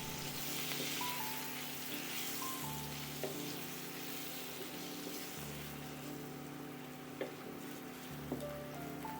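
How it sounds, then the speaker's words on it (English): Cubed medium potato frying in oil in a pan for a green mango and fish head curry, a steady soft sizzle throughout with faint background music and a few small clicks, no talking. "Fry 1 medium-sized potato cut into cubes until golden yellow."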